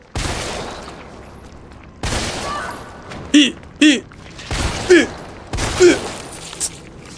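Magnum gunfire in the Resident Evil 3 video game, a handful of sharp loud booming shots spaced a second or so apart, with other game sounds between them.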